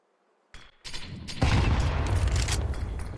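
A grenade detonates in a Counter-Strike match, a sudden loud boom that swells into a sustained roaring rumble, preceded by a brief click and short crackle.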